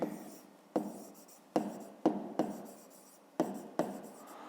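Handwriting on a surface during a fifth-grade math exercise: a series of short scratchy strokes, each starting sharply and fading, about seven in a row, close and alone.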